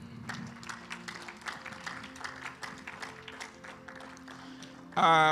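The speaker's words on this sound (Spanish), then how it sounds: "Denle un aplauso al Señor." A church congregation applauds for a few seconds, a steady patter of many hands clapping at moderate volume, with a louder burst of sound breaking in at the very end.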